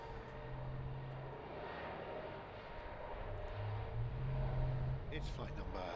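A Swiss airliner bound for Zurich takes off from Heathrow airport, a steady distant jet roar building slowly, faint and continuous, with someone talking over it.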